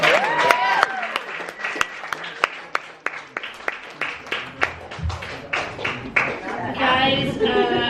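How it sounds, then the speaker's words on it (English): Scattered, sparse clapping from a small audience welcomes comedian Samantha Buckley at an event in Brooklyn, the individual claps distinct rather than massed, with a voice speaking briefly at the start and again at the end. "Let's give a big round of applause for Samantha Buckley"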